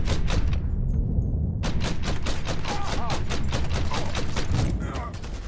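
Rapid gunfire bursts in the Mafia video game, a dense, loud string of shots cracking back to back almost without pause, with a voice talking over the shooting.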